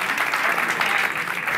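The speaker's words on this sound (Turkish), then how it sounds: "Alkışlıyor musunuz yani? Alkışlayacağım." A studio audience at a Valentine's Day special talk show clapping steadily, a dense even wash of applause throughout the short moment.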